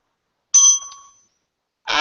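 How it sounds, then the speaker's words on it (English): A single meditation bell struck once during a zazenkai chant session, ringing clear and bright with a sustained tone that decays over about half a second, followed by a voice beginning. "Ring the bell once."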